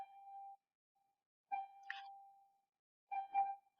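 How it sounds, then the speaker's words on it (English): A quiet electronic class-start bell tone, three sustained chime notes with gaps between them, heard alone at low level. "That is the bell, so class has started."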